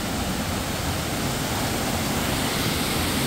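Constant heavy roar of the first falls of a waterfall, close and loud, a dense broadband rush with no breaks and no voices.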